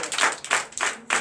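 A church congregation at a Sunday teaching service claps in quick rhythmic bursts, several loud, close claps in steady succession.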